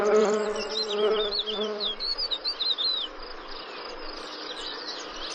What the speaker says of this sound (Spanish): Claro que una abeja a la defensiva es una excepción.